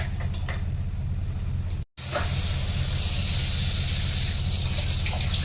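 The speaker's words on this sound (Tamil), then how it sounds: "அதையும் வந்துட்டு தண்ணி ஊற்றி அலசி ஊற்றணும்." Water poured into a plate to rinse off leftover masala while crab gravy is being cooked, a steady hissing gush that breaks off briefly, then resumes and splashes on.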